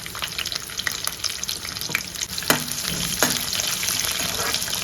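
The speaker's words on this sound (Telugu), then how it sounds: "ఇప్పుడు ఎరగడ్డలన్నీ వేగే వరకు వెయిట్ చేద్దాం" Onions and dried red chillies fry in hot oil as a tempering, giving a steady close sizzle with a few sharp crackles and faint stirring scrapes.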